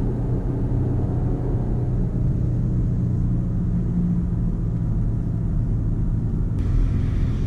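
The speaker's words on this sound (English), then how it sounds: "turbos will spool up" A Maserati car engine, meant to have its turbos spooling up, gives a steady, close, low rumble that holds even throughout, with no voices over it.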